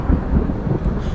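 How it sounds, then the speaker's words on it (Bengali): Thunder rumbles in the horror video game Madison, a low, loud, continuous roar lasting just over a second. "ওটা মেঘ ডাকছিল।"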